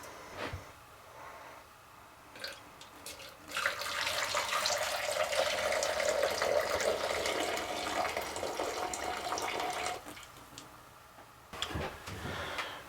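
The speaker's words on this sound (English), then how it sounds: "With the chicken broth, we're going to pour off 1 3/4 cup." Chicken broth poured off into a measuring cup, a soft steady liquid stream lasting several seconds between faint clicks and handling knocks, fairly quiet and with no talking.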